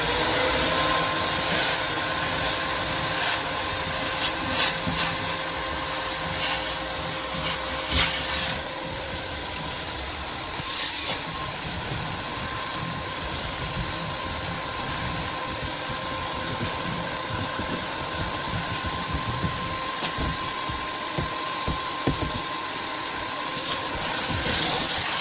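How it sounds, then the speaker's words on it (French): A vacuum cleaner sucks up leftover mash and seeds during a weekly cage cleaning, a steady, continuous whirring drone that runs unbroken throughout with no talking. "je vais passer l'aspirateur pour retirer le reste de la pâtée, les graines etc."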